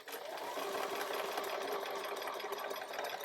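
A sewing machine runs steadily and close at moderate volume while stitching a foundation paper-pieced quilt block, its needle chattering in a fast, even rhythm.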